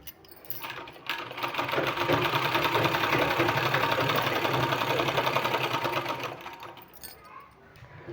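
A sewing machine stitches a sleeve in one steady run, a loud, close mechanical whirr that starts, holds evenly for about six seconds, then winds down.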